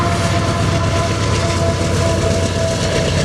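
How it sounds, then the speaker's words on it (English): A Canadian Pacific freight train rolls past close by, a loud, continuous rumble and rattle of wagons on the rails with no talk over it. "What a beautiful train that was."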